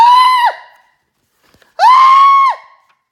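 Two drawn-out, strained screams voiced for a fleeing latke pancake in a story, each about half a second to a second long, loud and close, separated by a brief silence, with no other talk.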